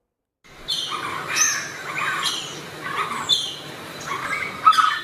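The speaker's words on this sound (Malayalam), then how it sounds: "ഓലഞ്ഞാലി, നാട്ടുമരംകുത്തി, നാട്ടുകുയിൽ, ചെമ്പോത്ത്, കാടുമുഴക്കി, കരിയിലക്കിളി തുടങ്ങി 13ലധികം പക്ഷികളുടെ ശബ്ദവും രൂപവും ക്യാമറയിൽ ഒപ്പിയെടുത്തിരിക്കുകയാണ്" Several wild birds call and chirp in short bursts near a house in Kerala, a mix of songbird whistles and harsher squawks overlapping at moderate distance with no talk.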